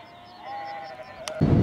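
A single sheep lets out a drawn-out, wavering bleat on a windy downland walk between Berwick and Seaford. A sharp click follows, then a burst of gusting wind buffets the microphone.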